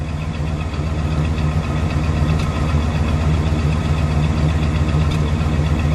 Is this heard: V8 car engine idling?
yes